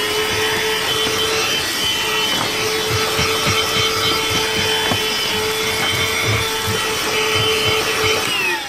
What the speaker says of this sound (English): we got the vacuum here that we're gonna use to vacuum all the mess